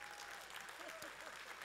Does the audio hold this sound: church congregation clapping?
yes